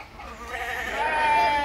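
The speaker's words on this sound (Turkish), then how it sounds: "yan bahçede koyun sesleri geliyordu devamlı ya, onlar da bunlar arkadaşlar" A sheep in a neighbouring garden gives one drawn-out, wavering bleat that swells in loudness, heard from a short distance.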